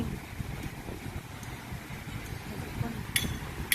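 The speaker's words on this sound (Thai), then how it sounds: "แต่คลื่นมันโอ้โหแรงจริงนะลม" Steady wind roar with a rough, rushing wash of strong surf underneath on a morning beach at Jomtien, continuous and fairly loud, with a brief clink near the end.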